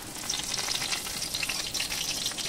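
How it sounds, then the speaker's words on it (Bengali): Dried chilies and chopped onion fry in oil in a wok, a steady, close, hissing crackle with bright spitting pops throughout and no voices. "দিয়ে পেঁয়াজ কুচি দিলাম, দিয়ে লঙ্কা পেঁয়াজ দিয়ে ভাজতে হবে।"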